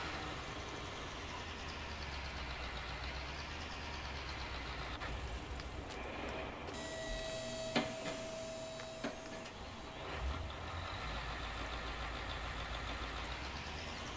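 A tractor engine in Farming Simulator 19 idles with a steady low drone, joined midway by a few clanks and a high mechanical whine that fades again, heard alone without speech.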